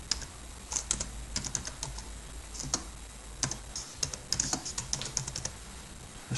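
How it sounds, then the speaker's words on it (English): Quiet, close clicking of keys on a computer keyboard as text is typed, coming in short irregular bursts with small pauses between them. "We're going to type in the text that we want."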